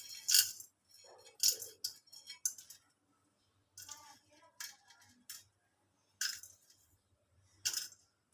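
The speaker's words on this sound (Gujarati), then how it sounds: "પછી આપણે આ મરી નાખવાના છે અડધી ચમચી જેટલા." Half a teaspoon of black peppercorns drops into a pan, making scattered light clinks and rattles in several quick, sparse bursts with quiet gaps between them, close and fairly faint.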